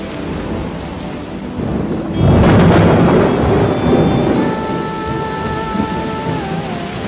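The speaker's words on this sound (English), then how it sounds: "Tonight, the first of the monsoon rains brings some relief from the intense heat." Monsoon rain pours down in India as thunder breaks out, a loud rumbling crash swelling around two seconds in and rolling on under steady rainfall, with faint tonal sounds drifting over the storm.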